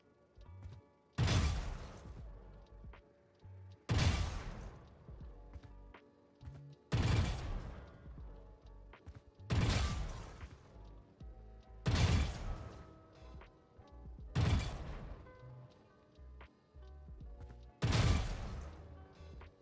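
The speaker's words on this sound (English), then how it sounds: "So what I'm gonna do is I'm gonna correct my aim. I'm gonna shoot." Seven single gunshots from the VALORANT video game, each a sharp loud crack with a booming tail, spaced evenly about two and a half seconds apart, with near silence between shots and no talk.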